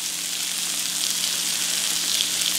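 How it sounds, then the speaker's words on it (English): Butter sizzling on salmon fillets in a hot pan, a loud, steady, close crackling hiss with no breaks. "So what I'm about to do is throw a little butter on top."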